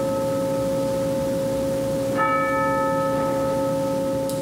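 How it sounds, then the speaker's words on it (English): Church bells ring at a memorial service for duck-boat victims at College of the Ozarks, a sustained resonant hum with a fresh bell strike landing midway and ringing on. "17 bells rang for the 17 victims."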